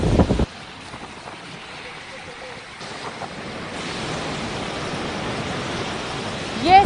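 Strong cyclone wind blowing in Mumbai during landfall, a steady broadband roar that builds and stays loud throughout, with rough gusty buffeting against the microphone and a sharp gust burst at the start.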